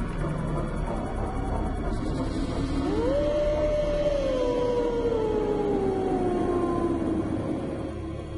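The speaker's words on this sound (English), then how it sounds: "You'll hear him howling and you'll know exactly what he is." A long, rising then slowly falling howl from a werewolf under a full moon, sustained and eerie, sounding distant over a dense, constant background rumble with no speech.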